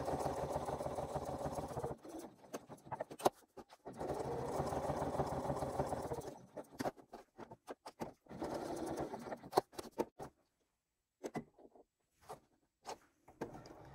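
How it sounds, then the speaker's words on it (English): A home sewing machine stitches lines across a crossbody bag panel in several steady whirring runs, the first two long, the later ones shorter with pauses between them, fairly quiet and with no talking. "You can continue sewing straight across here and then sew these lines separately"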